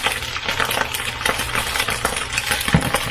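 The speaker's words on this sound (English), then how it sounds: "I'm going to pour some of that in." Leftover fajita sauce pouring and sizzling in a hot pan, with a few light clinks of a utensil, close and fairly loud.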